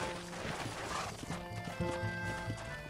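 A horse's hooves clip-clop at a walk in the video game Red Dead Redemption, a soft repeated rhythmic patter under music and game ambience.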